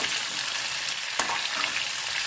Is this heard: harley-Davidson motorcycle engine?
no